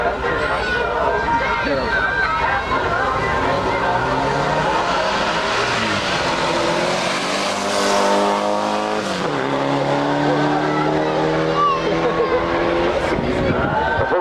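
A car arriving at a Volkswagen Beetle weekend race meeting in Wanroij, heard as a loud, sustained engine roar with a rising pass around the middle, under steady commentary and crowd noise throughout.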